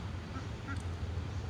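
Large ducks gather by a drain where their ducklings are stuck, giving two or three short, faint honking calls over a low, steady background hum.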